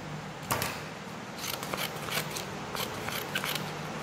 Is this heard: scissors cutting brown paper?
yes